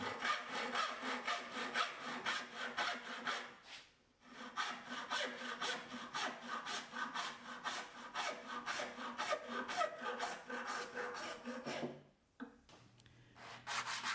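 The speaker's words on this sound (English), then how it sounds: "I then clamped the piece on the bench and used a hacksaw to cut the excess material." A hacksaw cuts through a piece of resin and wood clamped on a workbench. The rhythmic back-and-forth rasping strokes are close and quite faint, with short pauses between runs of strokes.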